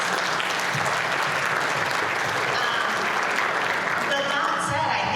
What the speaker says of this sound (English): They deserve a huge round of applause, let me tell you. Huge round of applause.